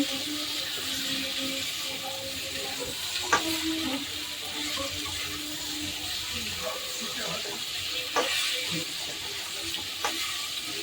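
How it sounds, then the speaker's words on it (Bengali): Ginger paste frying with salt and turmeric in a pan, a low continuous sizzle with occasional sharp clicks and a watery hiss, a voice faintly present underneath. "এটাকে একটু ভাজা ভাজা করে নেবো।"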